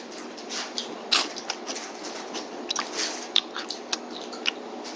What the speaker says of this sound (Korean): 과자를 먹어볼게요, 과자.